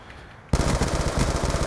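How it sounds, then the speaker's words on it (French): Gunfire in the video game Call of Duty Black Ops 2, a sudden burst of rapid automatic shots starting after a quiet moment and continuing loud and dense to the end. "j'entends des tirs"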